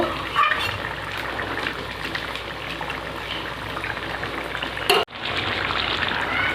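A Bengali tilapia fish curry simmering in a pan, a continuous bubbling, sizzling hiss with a sharp clatter near the end, close and steady, no voices.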